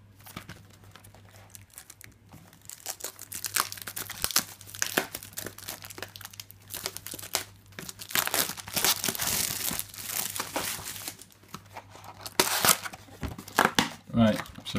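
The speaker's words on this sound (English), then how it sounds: "So we'll just get this box open." A Yu-Gi-Oh Breakers of Shadow booster box is opened, its plastic wrapper crinkling and tearing in dense, close, irregular bursts that build through the middle and continue to the end, with a person talking intermittently.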